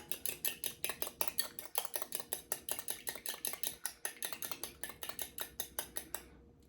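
Whisk or spoon beating peanut butter cookie batter in a bowl: a steady, rapid series of sharp metallic clicks and taps against the bowl, close and distinct, continuing evenly before stopping.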